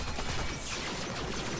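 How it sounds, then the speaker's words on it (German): Rapid-fire pistol shots from the video game Warframe crackle in a dense, continuous burst at steady loudness, filling the whole stretch without pauses. "Jetzt schieße ich auch mal die erste Schüsse mit dieser Waffe."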